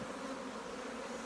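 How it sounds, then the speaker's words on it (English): Honey bees buzzing in an opened hive, a dense, steady drone from many insects, close and constant throughout. "There's a lot of pent-up bees in this hive that have been hanging out for a few days."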